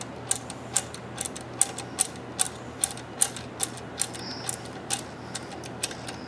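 A special wrench threads a valve back into a Neptune N500 series pump, giving a regular series of sharp ratcheting clicks, evenly spaced and close, over a quiet background.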